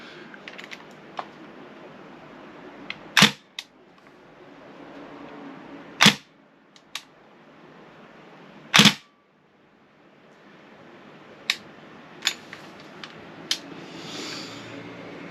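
A Northeast Uzi MP2A1 airsoft gun fired on semi-auto gives a few sharp, loud snapping shots spaced seconds apart, with lighter clicks and rattles in between, close and with no talking.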